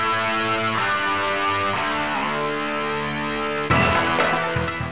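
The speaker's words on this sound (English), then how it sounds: "if you switch it to Use Sound Device, you'll hear the digital sound effects" Digital sound effects from the Stunt Island video game running in DOSBox, a continuous buzzy, harmonic engine-like tone that shifts in pitch, then a sudden louder noisy burst near the end.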